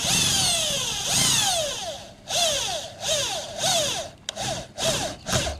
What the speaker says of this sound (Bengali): এই পার্লিনে ঠেকার সময় আমি স্ক্রু মেশিনটা এইভাবে ধরলাম, আস্তে আস্তে প্রেস করতেছি।